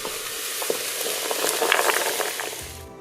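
Onions, garlic, carrots and celery sautéing in a pot for a creamy vegetable soup, a loud bright sizzle with spoon stirring scrapes, building and then cutting off at the end.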